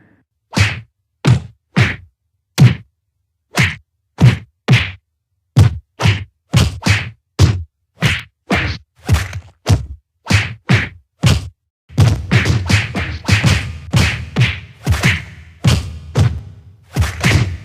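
Punch and fight sound effects for a boxing or UFC-style brawl: hard, separate thwacks and thuds land one at a time at first, then quicken into a dense flurry of loud blows near the end, with no talking.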